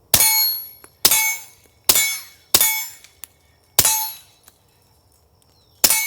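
A steel target rings with sharp metallic clangs as pistol rounds from a 2011 strike it. There are six separated hits, each with a bright ringing decay, and smaller ticks fall between them.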